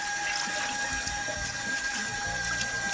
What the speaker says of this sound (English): Put a little bit more water in.